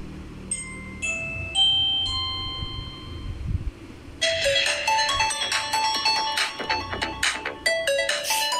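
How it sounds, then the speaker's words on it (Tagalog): A mini smart doorbell with a camera rings out a series of electronic chime melodies, first sparse tones and then a denser, louder ringtone passage that continues to the end. "pa-testing natin mami pa-doorbell"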